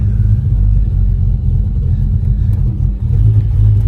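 A cold-blooded 1985 Terminator car idles roughly while still cold, with a loud, close, continuous low rumble that wavers unevenly throughout.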